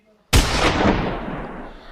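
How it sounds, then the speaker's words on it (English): A single loud gunshot cracks sharply after a brief near-silence, then rolls into a long, broad reverberant tail that slowly fades. "a gunshot would fire, and Morgan would fall to the ground"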